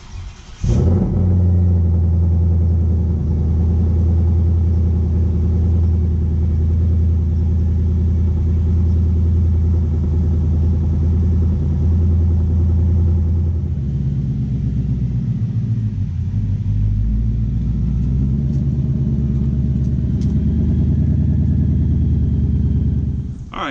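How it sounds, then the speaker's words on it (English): A car engine cold-starts with a short crank burst, then settles into a steady, loud, close idle rumble that runs throughout, dipping slightly midway, with no talking. "now that we got the cold start in there"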